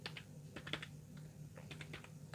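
Typing on a computer keyboard while entering text in MS Word, heard as quick bursts of light clicks in uneven runs, close and moderately quiet over a steady low hum.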